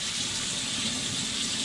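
Tap water running steadily into a kitchen sink, a continuous close hiss and splash of the stream with no breaks and no voices.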